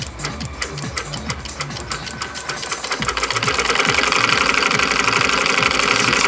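A small homemade single-cylinder solenoid engine with a mechanical switch, glued from scrap parts, runs at about 2 volts with a loud, rapid mechanical clatter that grows into a steady buzzing hum partway through.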